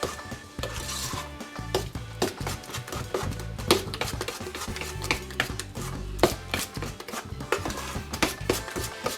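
Cornbread batter is stirred by hand in a bowl, producing a close, repetitive scraping and knocking rhythm of utensil against the bowl, steady and busy with small irregular bumps.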